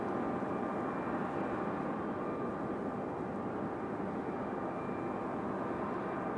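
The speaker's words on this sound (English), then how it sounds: "we have Delta 2699 coming in from Minneapolis on an A320-200" Delta Airbus A320-200 arriving from Minneapolis at Raleigh-Durham International Airport, a steady broadband roar of jet engines with a faint whine, holding level throughout without any talk.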